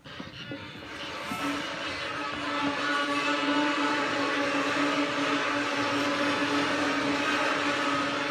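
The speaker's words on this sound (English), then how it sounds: "What does a beginner string orchestra sound like using their bows for the very" A beginner string orchestra bowing for the first time scrapes and saws at once, a thick droning wash of scratchy bowed tones with a steady sustained pitch, loud and continuous.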